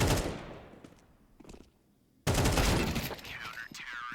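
FAMAS rifle fire on Dust2 in a Counter-Strike 2 match, heard as dense bursts of shots followed by a sharp, loud volley near the end, with a caster speaking over it.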